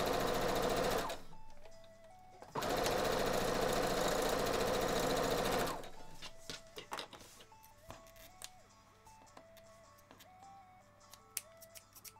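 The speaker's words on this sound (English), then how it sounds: "Sew this one, and then I will flip it around and sew the other side." Sewing machine stitching two fabric pieces together for a costume, running in two loud, steady bursts of motor hum and rapid needle chatter, followed by quieter clicks and handling of the fabric.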